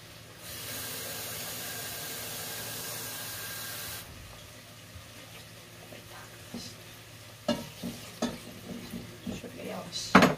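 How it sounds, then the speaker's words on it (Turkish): Cold water poured into a hot pan at home, a loud steady hiss for a few seconds that drops to a softer simmer, then spoon scraping and stirring clatter near the end. "Şimdi soğuk suyu ilave edeceğim."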